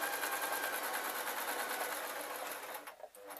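A sewing machine runs steadily, stitching a baby outfit made from a pillowcase, its fast even whir continuing loud and close before slowing and stopping near the end.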